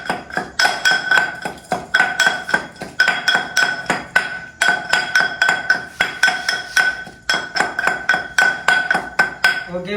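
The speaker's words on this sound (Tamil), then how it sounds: "செத்தலும் வெங்காயம் வடிவாக மசி நல்லா பசையாக வரைக்கும் இடிக்கணும் வடிவாக" Dried chillies and onion are pounded into sambal paste in steady, rhythmic thuds with a ringing, clinking edge, loud and close, repeating in bursts for the whole stretch without speech.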